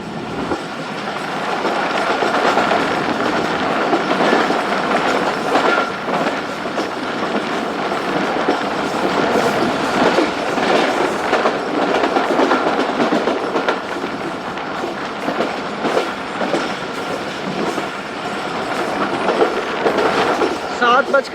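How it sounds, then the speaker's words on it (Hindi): The Tezgam Express rolls past Sadiqabad railway station, giving a loud, sustained rumble with rhythmic clickety-clack of wheels on rail joints throughout. "सादिकाबाद रेलवे स्टेशन पास हो रही है ट्रेन"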